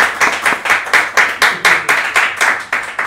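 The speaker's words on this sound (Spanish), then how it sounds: "así que un aplauso por favor" Audience claps for a singer at a live show in Coatzacoalcos, Veracruz: a loud, close group clapping in a regular rhythm, about three beats a second, with no talk over it.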